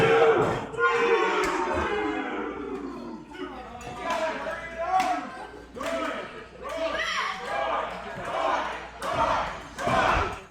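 Arena crowd at a wrestling show roaring and chanting in rising and falling waves, with sharp thuds from the ring mixed in while a commentator talks over the noise.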